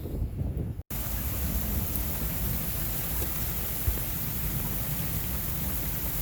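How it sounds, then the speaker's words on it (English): Heavy rain pours outdoors in a strong wind, a loud, dense, steady roar that breaks off briefly near the start and then continues without letup. "wow, is it pouring rain"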